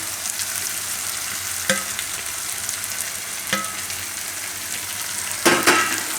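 Fenugreek leaves and grated corn stirred in a hot pan, a steady sizzle broken by three distinct scrapes of the spoon against the pan.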